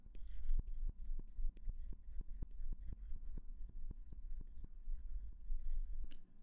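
A pen drawing a function-machine diagram by hand, tapping and scratching in an even rhythm of short strokes, quiet and close, with no talking.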